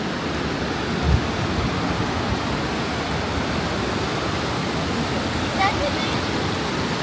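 Waterfall at Plitvice Lakes, a steady, broad rushing roar of falling water close by that fills the whole scene without pause, with one faint thump early on.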